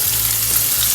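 Deer steak frying in hot grease gives a loud, continuous close sizzle and crackle with no voices.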